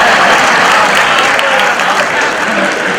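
Audience clapping at a live Gujarati comedy show in Mehsana, dense, sustained applause from a crowd filling the room, loud and steady throughout.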